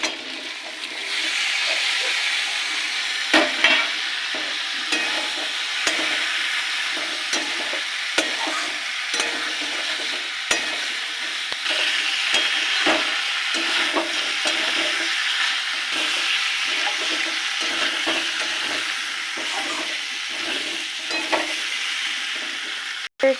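Onion stalks frying in a pan, a loud continuous sizzle with repeated scraping stirs of a spatula throughout, close up and without talk.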